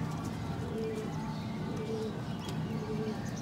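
Soft, repeated cooing of mixed young and adult pigeons over a steady background murmur, the low calls recurring every second or so.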